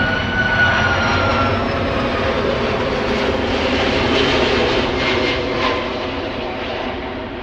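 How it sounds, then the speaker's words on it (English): A Saudia Airbus A330-300 jet arrives at Amsterdam Schiphol, its engines giving a loud, steady roar with a high whine at first, holding close and then easing slightly toward the end. "Saudia flight 933, arrival from Jeddah, A330-300, new livery."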